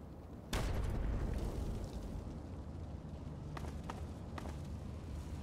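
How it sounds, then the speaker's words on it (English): A landmine detonates in Fallout 3 with a sudden loud low boom, followed by a sustained rumbling roar and a few faint sharp cracks, with no voices over it. "Oh, that's a mine."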